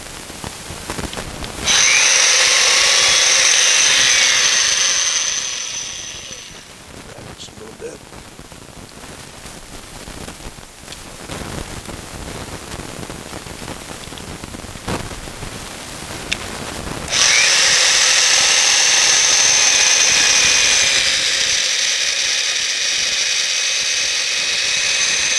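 A Makita 7104 chain mortiser cuts mortises into a pine beam, a loud, steady high-pitched motor whine with chain chatter in two long bursts, a quieter stretch of running between them.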